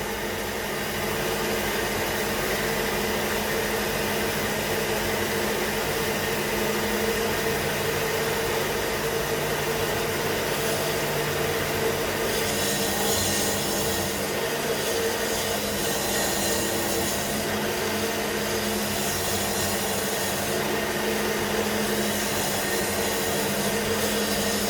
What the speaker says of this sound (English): So you can see the stone trying to cut evenly and get rid of all the hard spots